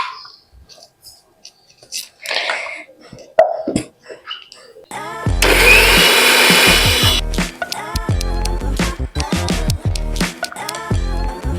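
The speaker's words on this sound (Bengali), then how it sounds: "গোলমরিচ গুঁড়ো করলাম, এখন গোটা জিরেটা একটু গুঁড়ো করে নিয়েছি" An electric grinder grinds whole cumin seeds in a home kitchen, with a loud, steady whirring burst of about two seconds. Clattering and household sounds follow, with faint voices nearby.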